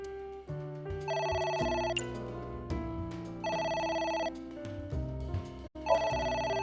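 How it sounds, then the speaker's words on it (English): A telephone rings in the video game AI: The Somnium Files, a repeating electronic ringtone in steady bursts with music underneath and no talk over it. "I got the phone to ring ringing again."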